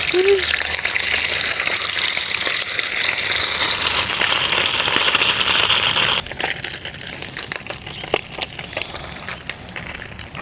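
Luncheon meat or eggs frying in a pan at a seaside campsite, a steady loud sizzle and crackle that stays bright and continuous, then turns patchier with scattered pops and scrapes toward the end.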